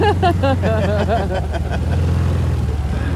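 A side-by-side off-road vehicle churns through mud with a steady low engine rumble close by, and voices chatter and laugh over it at the start before the motor noise carries on alone.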